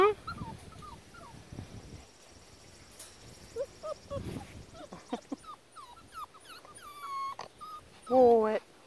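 A Boxer puppy whines and whimpers repeatedly in high, wavering yips and moans, close to the microphone, while a person talks to it in between.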